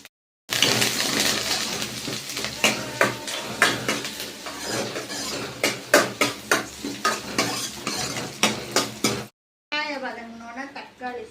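Onions and curry leaves fry in hot oil in a kadai, a continuous sizzle broken by repeated scraping and clinking of a spoon stirring against the metal pan, close and fairly loud, followed briefly by a voice.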